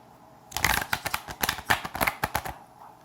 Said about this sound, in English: It doesn't even want to shuffle.